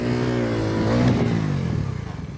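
A Pulsar motorcycle engine revs hard during a wheelie, climbing briefly then settling into an uneven, pulsing idle close by.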